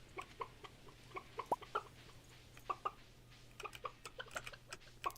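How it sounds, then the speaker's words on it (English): Chickens in the video game Stardew Valley give short, quiet clucks and chirps in scattered bursts, several close together, over a low steady background hum. "Alright, let's go check on the chickens."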